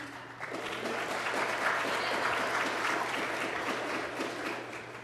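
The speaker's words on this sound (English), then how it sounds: "give her a round of applause" Audience applause fills a scholarship awards ceremony hall, a steady wash of many hands clapping at moderate volume for the whole stretch, with a low steady hum underneath.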